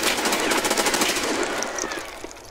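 Rapid automatic gunfire in the video game Escape from Tarkov, a loud, dense burst of shots that fills the first half and then trails off into fainter reports, with no talk.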